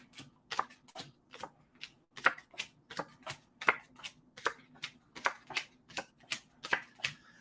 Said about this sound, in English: Give the old cards a good shuffle.